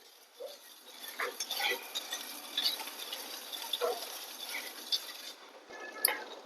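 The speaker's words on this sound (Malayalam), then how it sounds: "ഇനി നമ്മൾ കൈവിടാതെ ഇളക്കിക്കൊണ്ടിരിക്കണം കേട്ടോ," A spoon stirs semiya parippu payasam in a pan, scraping and clinking in an irregular rhythm of soft strokes, with a faint bubbling simmer underneath and no talking.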